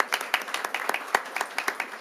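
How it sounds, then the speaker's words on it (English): Sparse applause from a small audience at a city council meeting, individual claps standing out in an uneven, close patter with a few voices underneath. "let's give him a little round of applause"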